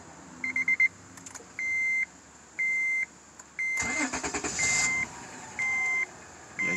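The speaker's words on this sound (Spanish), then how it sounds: "Ahora mismo pues vamos a prender, quitar la alarma y ahí suena" A 2005 Acura TL with an aftermarket remote start alarm chirps in a regular series of short electronic beeps, with key jingles at the start and the engine cranking and catching midway, idling quietly beneath the continuing beeps.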